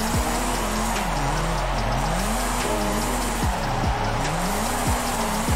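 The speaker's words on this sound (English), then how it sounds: "I'm really not sure about what I think about this engine though." Toyota Celica engine in Forza Horizon 5 revs loud and constant with a shrill edge, pitch sweeping up and down through repeated gear shifts while tires squeal during drifting.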